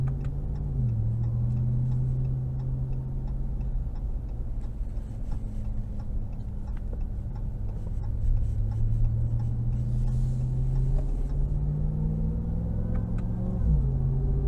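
A supercharged 2022 Dodge Ram 1500 TRX pickup engine roars steadily under acceleration from inside the cab, a loud continuous low rumble whose pitch climbs, drops with a shift, and climbs again, with no talking.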